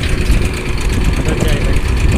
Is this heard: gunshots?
no